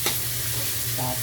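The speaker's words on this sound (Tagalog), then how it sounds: "Ilagay ko ng kamatis" Chopped tomato dropped into a hot frying pan, giving a brief soft sizzle and stirring scrape over a low steady hum, close and short.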